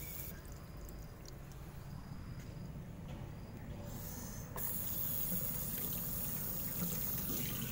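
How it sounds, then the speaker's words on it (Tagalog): Water runs steadily from a tap while hands are washed outdoors in a forest area, a soft continuous trickle that swells into a louder, fuller flow partway through. "Ayan, hugasan natin."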